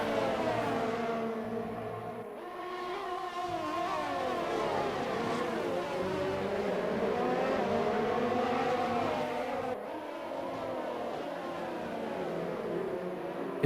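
Race cars roaring in a racing video game at the Hungaroring, Hungary, engines howling and shifting pitch as they rise and fall through gears, a continuous pack sound from the green flag.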